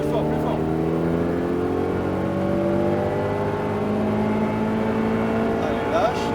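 A Ferrari engine revs up steadily, its pitch climbing smoothly as it accelerates, loud and close, with a voice speaking briefly over it.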